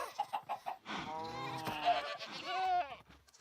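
Minecraft goats bleat in a video game, a few short, close, nasal calls in quick succession, with some light speech-like sound mixed in.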